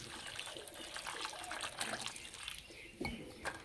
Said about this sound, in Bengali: সোয়াবিনগুলো জলে ভেজাতে দেবো জল